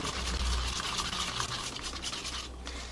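Polyester resin mixed with glitter being stirred thoroughly in a container, a close, steady scraping and swishing with a faint wet texture.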